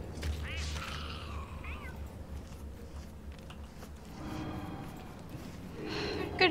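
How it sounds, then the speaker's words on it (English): A cat meows in the video game Don't Starve Together, a few short, rising cries near the start over a low rumbling game background, faint and somewhat distant. "she's over there meowing"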